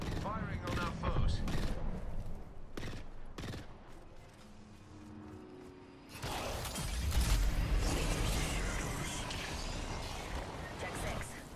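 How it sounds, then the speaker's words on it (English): Rapid bursts of gunfire and clattering weapon mechanisms from an Apex Legends match, loud and dense, with a brief lull before heavier sustained shooting resumes; game announcer voice and chatter run over it. "Firing on our foes."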